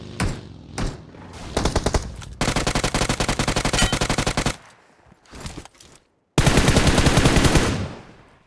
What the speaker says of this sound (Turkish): Buralar boş gibi derken Türkiye'den sıkıyorlar.